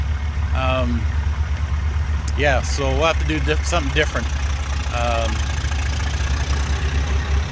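A tractor engine idles at a tractor pull with a steady, close, low rumbling throb that runs throughout, while someone talks over it in short phrases.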